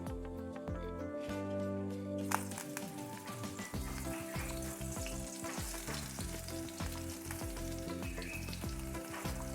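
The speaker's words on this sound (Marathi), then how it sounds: "त्यात मी थोडं तेल घातलेलं आहे. आता मी हे वांगे सगळे त्यात ठेवून देते." Stuffed eggplants sizzle and crackle steadily in hot oil, the frying swelling suddenly after a moment and then staying busy and close, with a soft tune in the background.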